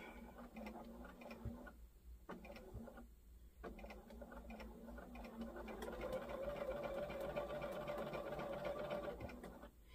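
Sewing machine stitching the seam of a stuffed bunny made from solid-color fabric, a steady close mechanical whir with rapid stitching clatter, pausing briefly twice before running continuously and slightly louder.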